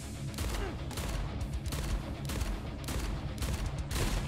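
Rapid gunfire while shooting enemies in Nightmare Reaper, a steady string of punchy shots repeating about twice a second, loud and dense with a continuous rumble beneath.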